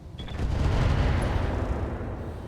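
Weapons fire from mech combat in the video game RogueTech, likely including LRM missiles; a dense, continuous rumbling barrage of shots and booms that holds loud for over two seconds with no talk.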